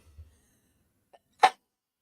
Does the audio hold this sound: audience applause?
no